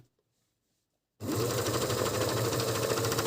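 An Agat DonLock overlocker runs steadily on fabric after a second of silence, its loud, even mechanical whir and rapid stitching rattle continuing without pause.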